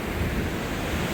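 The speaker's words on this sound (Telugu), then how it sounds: "ఇక్కడ వాటర్ ప్రెషర్కి, ఆ సౌండ్కి" Water gushing under pressure at the Mysore water dance fountain, a dense, loud, continuous rushing roar with no break and no voices.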